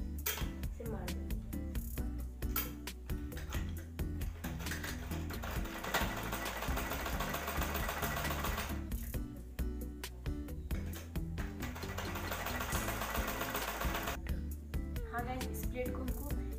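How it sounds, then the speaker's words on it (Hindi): A sewing machine stitches a pleat in a blouse, running in long, steady rapid bursts with brief pauses between them, close and clear throughout, while someone talks over it. "उसी निशान पे हमको सिलाई लगाएंगे ऐसे करके"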